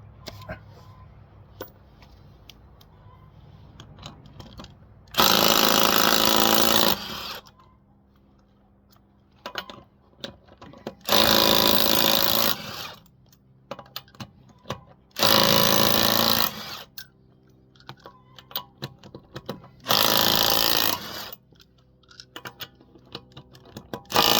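An impact wrench fitted with a socket, used while removing a tire, fires four loud, rattling bursts of about one to two seconds each, separated by quieter pauses with light handling noise.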